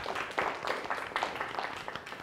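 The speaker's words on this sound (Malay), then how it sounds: "Satu tepukan kepada kumpulan." A group of students gives a short burst of steady, moderately quiet clapping that continues through the whole moment.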